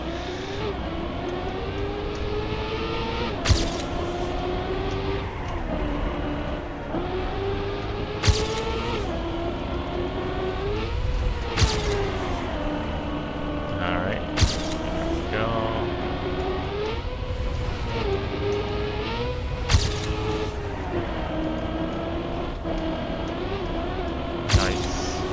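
Car engine in the racing video game Trackmania, a continuous revving drone with shifting pitch and occasional sharp impact spikes, loud and steady under a player's talking.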